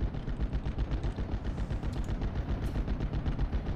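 An M8 armored car firing on Panzer Grenadiers in the Steel Division video game: rapid, steady machine-gun bursts rattle continuously at a moderate distance, with no talking over them.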